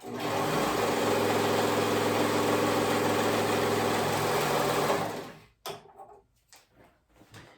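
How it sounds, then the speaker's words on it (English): A sewing machine stitches the side edges of a shoulder strap together into a long tube, running steadily with a fast, even whir for about five seconds before stopping, followed by a few light handling clicks and rustles. "I'm gonna sew that side edge. So sew those two sides together to create one long tube"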